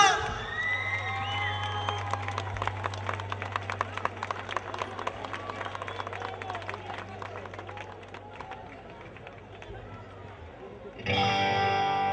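Audience at an outdoor concert in Tomiño applauding and cheering loudly, a dense burst of clapping and shouts over a sustained low hum, fading gradually before a sharp loud surge near the end.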